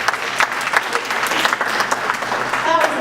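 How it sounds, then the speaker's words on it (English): Steady, close audience applause fills the whole moment at an elementary school parent honor society gathering, following a singer's performance, with no break in the clapping. "Let's give her another round of applause,"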